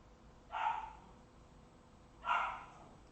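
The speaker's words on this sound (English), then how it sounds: "Baby puppy is definitely awake." A puppy gives two short, faint barks about two seconds apart against a quiet indoor background.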